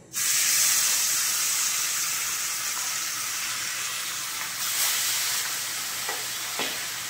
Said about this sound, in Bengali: এবার এক একটা মাছ ভালো করে লাল লাল করে ভেজে নেব